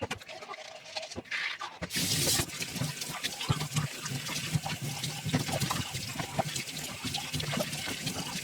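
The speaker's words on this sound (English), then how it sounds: "To wash the bottles, I literally just use a bottle brush and normal dish soap" Tap water runs steadily into a sink while baby bottles are scrubbed with a bottle brush and ordinary dish soap. A brief rush of water opens it, then a continuous moderate splash with faint clinks.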